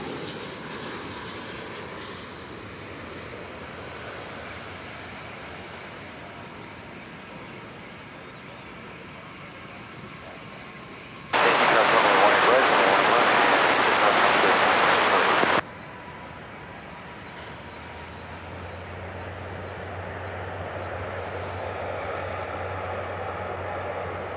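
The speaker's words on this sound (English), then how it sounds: "We do have American Flight 2266 coming in from San Antonio, Texas. It's an Airbus A320." Airbus A320 airliner arriving at DFW Airport on a flight from San Antonio, with a steady distant jet roar throughout and a louder, broad rushing burst for a few seconds midway before settling back to a low hum.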